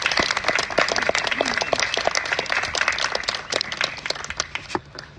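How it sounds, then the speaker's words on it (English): A round of applause from a crowd gathered at a memorial vigil on a campus, dense steady clapping that thins out and tapers toward the end. "could we just give a round of applause to Phoenicia and the entire team"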